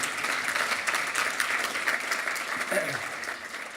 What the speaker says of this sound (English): Give them a round of applause for everything they do.